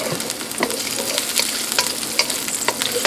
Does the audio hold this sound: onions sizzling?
yes